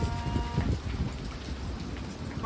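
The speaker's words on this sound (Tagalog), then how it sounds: "Biglang nag-hail." Hail falls suddenly, mixed with rain, in a dense patter of close, irregular impacts on the surfaces nearby. No voices are heard.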